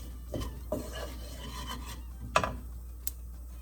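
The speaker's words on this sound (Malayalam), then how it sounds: "മാരിനേറ്റ് ചെയ്ത് വെച്ചിരിക്കുന്ന മട്ടൺ പീസസ് ഇതിലേക്ക് ഇട്ട് കൊടുക്കണം. എന്നിട്ട് നന്നായിട്ട് ഇളക്കണം." Marinated mutton pieces being stirred in a pan with spices for a Kerala mutton curry, giving a few scraping, rubbing strokes and light knocks of a spoon against the pan, close and fairly quiet, with no talk.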